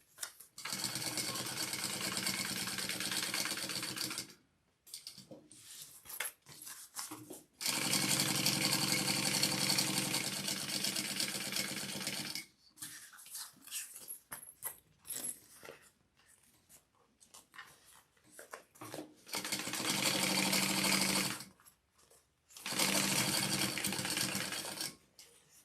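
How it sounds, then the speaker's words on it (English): A sewing machine stitches shut the pocket on a bound bag in several long, steady bursts with short pauses between them, running loud and close. "I'm gonna sew up this pocket"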